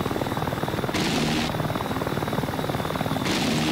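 Attack helicopters in DCS World, an Mi-24 Hind firing its gun at an AH-64 Longbow, with a loud, steady rotor and engine drone and dense rapid firing bursts running through the whole stretch.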